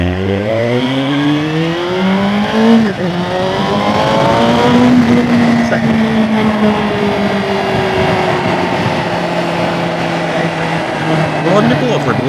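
A Suzuki GSR 750 motorcycle fitted with a new aftermarket exhaust revs and rises through gears with rising and falling engine pitch, loud and continuous, with road and wind noise throughout.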